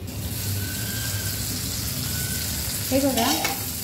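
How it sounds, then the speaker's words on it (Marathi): Bitter gourd cooking in oil and salt in a pan over a low gas flame, a steady soft sizzle with faint stirring, and a brief brighter scrape near the end. "आपल्याला मिठामध्ये आणि तेलामध्येच हे कारलं असं शिजून घ्यायचं आहे"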